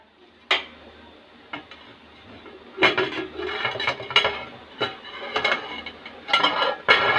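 A metal lid is set onto a cooking pot of water for Charsadda-style mota chawal, giving a sharp clank followed by several lighter knocks and clatters of metal kitchenware, close and fairly loud with no talking.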